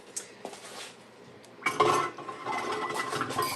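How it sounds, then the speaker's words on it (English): A spoon stirs pinto beans in a cooking pot for refried beans, scraping and clinking softly and steadily, with a louder, busier stretch of stirring in the second half. "at this point, I'm just sort of stirring everything around"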